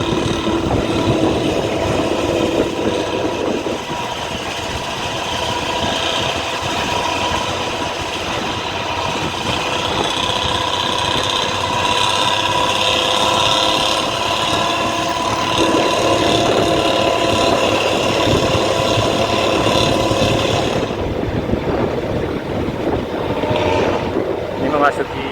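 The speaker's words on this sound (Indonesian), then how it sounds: "Ini sasisnya pakai Nissan ya. Terus bobokan knalpotnya enak nih." A Harapan Baru bus on a Nissan chassis climbs the Lahor incline, its exhaust giving a steady, throaty drone with a shift in tone partway through, heard from inside with someone talking over it.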